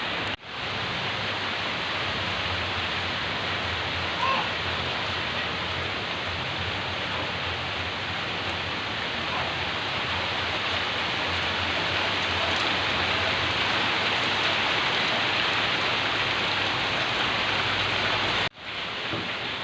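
Heavy rain pours steadily, a dense, loud, even rush of falling water heard close up, unbroken for nearly the whole stretch until a brief dip near the end.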